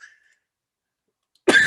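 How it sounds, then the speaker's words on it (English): A single short cough bursts out abruptly after near silence, close and fairly loud. "It's cough, so annoying,"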